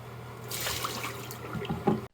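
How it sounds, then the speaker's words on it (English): Water is poured into a container to make ice, a steady splashing stream that starts after a brief pause and ends with a few gurgles and drips, close and alone. "Using any method of your choosing, place the water in the container."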